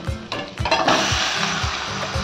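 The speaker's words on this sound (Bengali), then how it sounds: "এবার আমি দিয়ে দেবো এতে মাংসটা।" Chicken meat drops into a hot wok of lightly fried onions and a loud, steady sizzle rises after a few soft thuds, then holds for the rest of the moment.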